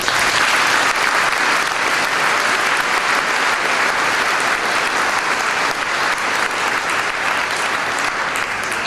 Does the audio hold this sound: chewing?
no